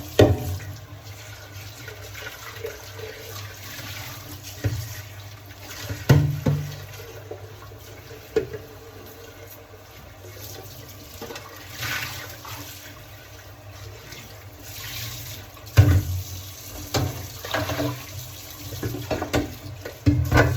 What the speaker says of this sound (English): we're going to catch the water inside of the sink